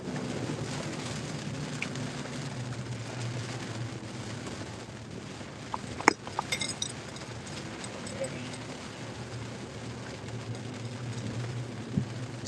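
Steady rain falls on an evening outdoors, a continuous broadband hiss with a few sharper drops and knocks, moderately close and unbroken throughout.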